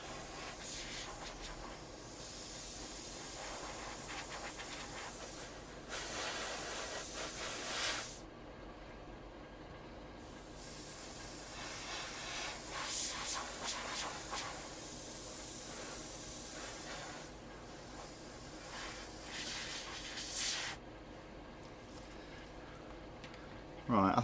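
Spray paint hissing onto an Airfix 1/72 scale Hunting Percival Jet Provost model aircraft, laying down red coats in several long bursts separated by short pauses, close and fairly loud.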